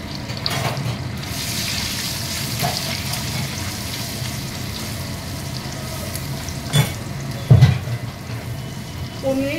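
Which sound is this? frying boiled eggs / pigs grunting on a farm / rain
frying boiled eggs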